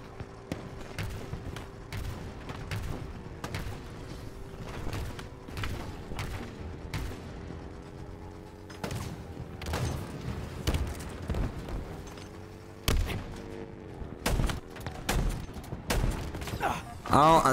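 Repeated gunshots from a weapon fired in the shooter game Halo Infinite, with sharp cracks scattered through a dense game soundscape full of engine drone and explosions, and a voice speaking over parts of it.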